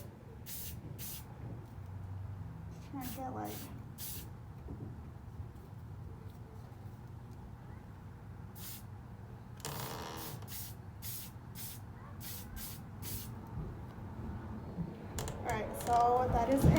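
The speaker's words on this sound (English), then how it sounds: "I'm going to spray a little bit further away." Short bursts of hissing spray from an aerosol can of Crystalac lacquer onto a tumbler repeat on and off, some in quick succession, with a brief spoken phrase and faint background noise.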